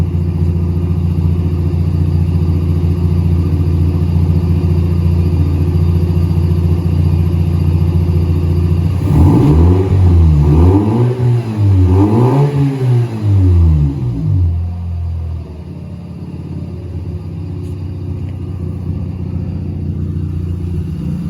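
A Mazda RX-8 rotary engine idles with a steady low drone, then revs in three rising and falling surges before settling back to idle, loud and close.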